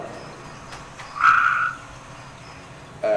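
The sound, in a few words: frogs trilling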